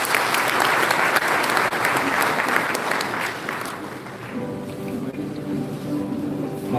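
An audience at a mentorship summit applauds after a speech, dense clapping that fades after about four seconds into a quieter room where a voice begins.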